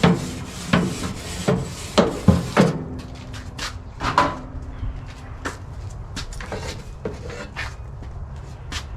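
Scraper rasping across a barbecue grill grate to clear residue, a run of sharp, close scrapes and knocks in the first few seconds, thinning to sparser strokes over outdoor background.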